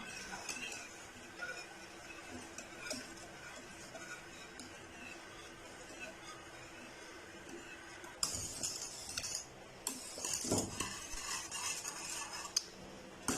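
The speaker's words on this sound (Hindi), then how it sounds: "फ्लेम ऑन करने के बाद मुसलसल हमने जो है वो स्टेयर करते रहना है ताकि इसके लम्स ना बने" A spoon stirs a thickening no-bake dessert mixture in a pot over a flame, giving soft scrapes and light metallic clinks that grow louder and busier in the last few seconds.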